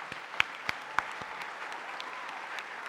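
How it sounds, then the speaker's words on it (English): Audience at an award ceremony claps in a fairly quiet room, a dense patter of hands with a few sharp louder claps standing out near the start. "So a round of applause for all of them, please."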